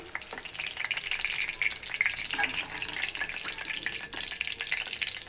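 Spices frying and being sautéed in a pan for a potato dish, a steady close sizzle with scraping stir strokes running through the whole stretch, no talk.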